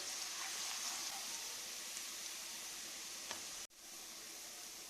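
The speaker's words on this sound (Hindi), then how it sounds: "लहसुन को हम थोड़ा भूनेंगे, इसका कच्चापन खत्म हो जाए।" Crushed garlic frying in cooking oil in a pan, a faint, steady hiss and crackle with light stirring, cut by a brief break near the end before the sizzle resumes.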